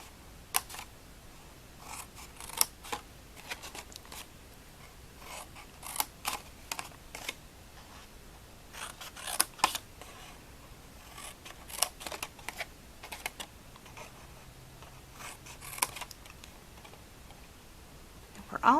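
Scissors cutting along the score lines of a cardboard box, heard as faint, scattered snips and crisp clicks spread irregularly across a quiet room.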